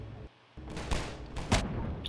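Gunfire in the video game Half-Life 2, a few sharp bursts of shots over a noisy combat background, close and fairly loud.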